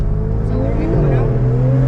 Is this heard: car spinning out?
yes